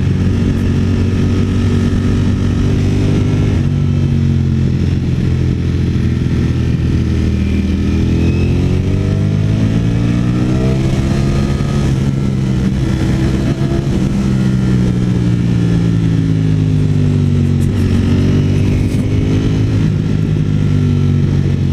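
A Ducati Streetfighter V4S motorcycle accelerating through city streets, its engine droning loudly up close and rising and falling in pitch through several rev sweeps, with no voices.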